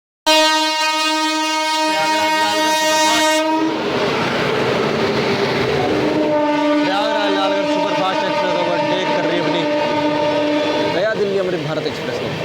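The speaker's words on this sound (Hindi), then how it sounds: "12403 प्रयागराज लालगढ़ सुपरफास्ट एक्सप्रेस अपना जिसको ओवरटेक करने आ रही है" The 12403 Prayagraj–Lalgarh Superfast Express sounds a long, loud horn blast, then rumbles past close by with rolling wheel clatter during an overtake on Indian railway track. A second horn note comes near the end.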